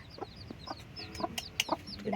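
A hen clucks softly and repeatedly while her newly hatched chicks peep in thin, high chirps all around her, close and steady, with no talking.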